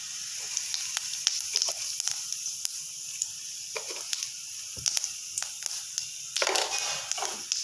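Whole cumin seeds crackle and sizzle in hot oil in a kadai, giving a quiet, steady frying hiss broken by sharp pops and spatters that strengthen briefly near the end, with no talking.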